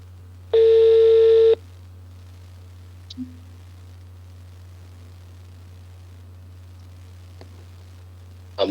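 After a phone call drops during a radio broadcast, a single loud telephone tone sounds for about a second over a steady low electrical hum, followed by faint clicks.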